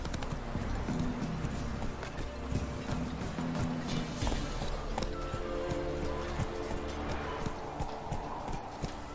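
The horse Roach trotting in The Witcher 3, steady clip-clopping hooves close by under game ambience and faint speech.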